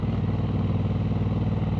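A motorbike cruises along a sweeping, curving road, its engine giving a steady, close, continuous low drone with no clear revving or gear changes.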